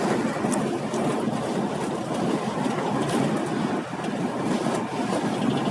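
A car travels at a steady 50 km/h over a rough, patched road between Pervomaisk and Mykolaiv, giving a continuous loud broadband road roar and rattling rumble without pause.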